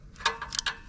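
Chain adjuster bolts on an RPS 125 motorcycle are tightened with a ratchet, giving a few quick, close metallic clicks with no talk.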